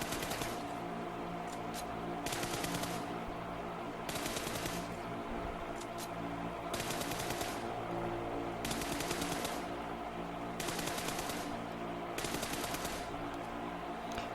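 Gunfire in the PUBG video game comes in regular bursts of rapid automatic shots, roughly every two seconds, repeated about eight times over a steady droning background, with no talking.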